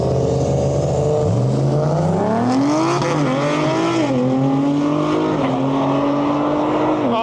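BMW M4 Competition and a turbocharged fifth-generation Camaro launch in a drag race, engines roaring loud and close as revs climb through several sharp gear shifts over a steady crowd-and-track din.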